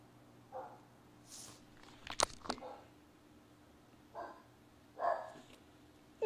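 A dog barks a few scattered times at a moderate distance, short sharp yelps spaced out against a quiet background.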